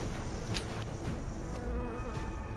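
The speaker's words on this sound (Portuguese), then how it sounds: "acaba assustando uma enorme colmeia de abelhas assassinas" Dense, steady buzzing of a swarm of Africanized killer honeybees from a huge disturbed hive, a continuous insect drone close by with no other sounds over it.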